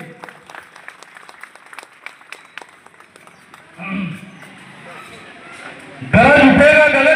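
An audience at a Vishwa Maurya Parishad foundation day gathering claps in scattered, uneven bursts under a speaker's voice, before loud amplified singing and music abruptly take over.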